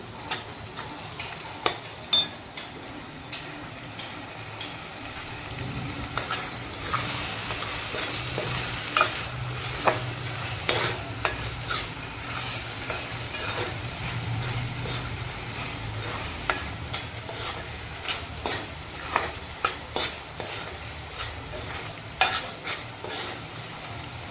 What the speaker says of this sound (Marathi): हे पण चांगलं परतून घेऊ